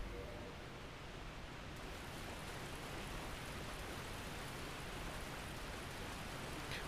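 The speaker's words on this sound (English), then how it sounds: "Waterfall loud." A waterfall in the video game Dark Souls, heard in a lake area of the Daughters of Ash mod, gives a continuous rushing wash of water, steady and faint throughout.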